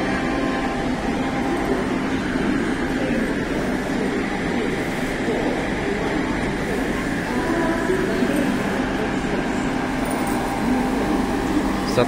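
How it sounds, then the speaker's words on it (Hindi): Vande Bharat train 22416, a seventeen-coach New Delhi to Varanasi service, pulling into Prayagraj Junction with a steady broadband rolling roar and hum that stays loud and even throughout. "अभी अभी इलाहाबाद यानी प्रयागराज जंक्शन पर वंदे भारत ट्रेन का आगमन हुआ है।"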